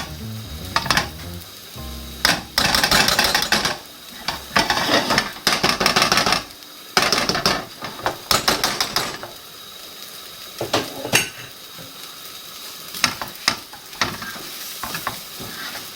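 Repeated bursts of scraping and clattering as black beans are mashed in a pan, metal against metal, with a soft sizzle underneath and pauses between strokes.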